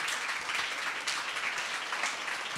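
An audience at an architecture award ceremony applauds, a dense, even patter of clapping that is moderately distant and continues steadily throughout.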